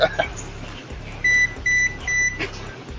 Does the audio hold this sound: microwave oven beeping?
yes